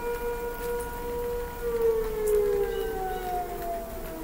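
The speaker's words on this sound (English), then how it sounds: "Anytime you get a beep and then a siren, it could be a tornado." Outdoor warning siren wailing for a tornado alert, a steady drawn-out tone held throughout at moderate distance, with low rumbling background noise and no talk.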